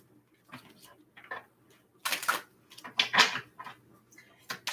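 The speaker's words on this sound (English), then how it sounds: "All right, this is our last shuffle." A deck of tarot cards is shuffled by hand close up, giving soft riffling and papery slapping bursts that grow louder in the second half, with no talk.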